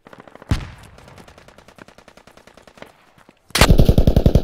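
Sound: gunfire in the video game Squad

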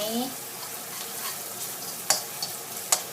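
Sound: stir-frying spice paste for catfish with fermented fish sauce

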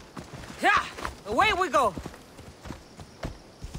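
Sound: horse galloping hoofbeats in video game Assassin's Creed Odyssey

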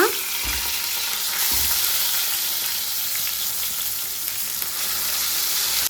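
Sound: frying ground drumstick leaf chutney paste

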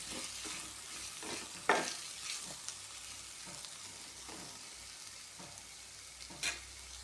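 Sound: stirring masala into onions for beef curry

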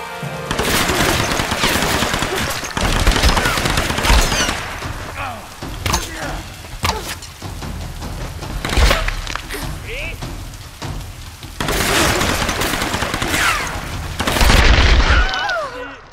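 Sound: gunfire in the video game Tomb Raider

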